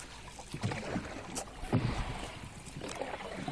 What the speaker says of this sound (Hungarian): motorcsónak tolja a ladikot